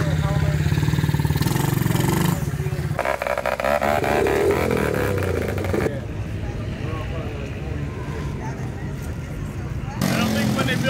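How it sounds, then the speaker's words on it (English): Mini bikes and mini trikes race indoors at the Thunderdome in Rockville, Connecticut, their small engines buzzing and droning loudly, with the pitch rising and falling as they pass while a crowd and voices carry over the noise. "The first moto's going off for the mini bike racing and mini trike racing."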